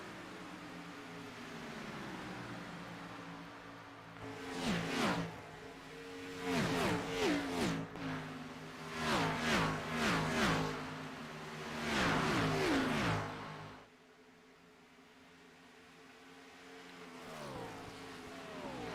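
Race cars in a NASCAR-style series at Kansas Speedway pass in several loud waves, their engine roars rising and falling with Doppler sweeps as packs go by, then a quieter lull before another approach.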